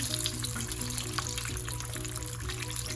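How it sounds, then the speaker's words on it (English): Steady, dense sizzling of oysters frying in hot oil in a pan, continuous and fairly loud with no voices. "We're going to fry these oysters until they are nice and golden brown."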